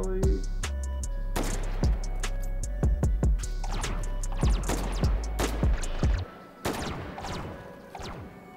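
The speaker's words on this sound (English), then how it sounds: "We're being shot at from the end, of the game." Sharp gunshots and bursts of gunfire in the H3VR virtual reality shooter, scattered irregular cracks over a low rumble, fairly faint overall with a few louder clustered shots.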